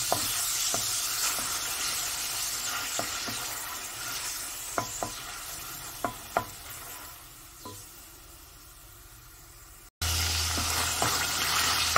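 Onions sautéing in a pan for a hilsa and bottle gourd curry, a steady close sizzle broken by sharp clinks and scrapes of a spoon, with a louder burst of frying near the end.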